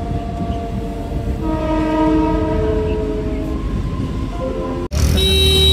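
A train horn sounds close and loud for about five seconds over the steady rumble of a moving train near Asangaon on an early morning, then cuts off abruptly, followed by a brief different rumble.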